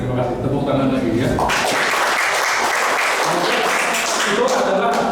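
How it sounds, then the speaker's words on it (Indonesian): An audience at a classroom talk breaks into clapping that swells after a brief moment and continues steadily, with a voice sounding beneath and around the applause. "Tepuk tangan lagi ya."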